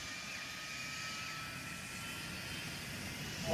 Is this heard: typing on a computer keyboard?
no